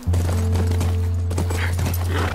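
Horse hooves in The Last of Us, a rapid clip-clop rhythm over a loud steady low hum of game ambience.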